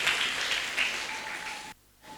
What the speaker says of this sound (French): Est-ce qu'on peut acclamer en s'asseyant?